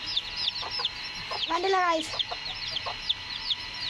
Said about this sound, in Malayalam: കറുപ്പ് കോഴിക്കുട്ടിനെ കാണിച്ചു തരാം